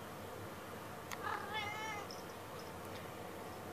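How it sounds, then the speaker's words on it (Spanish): A trained house cat meows once in a short rising and falling call, fairly close and clear over a low steady room hum, with faint higher chirps trailing after. "Este es un gato entrenado."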